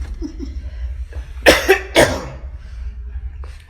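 Two loud, harsh coughs in quick succession, close by, followed by quiet breathing and a faint murmur.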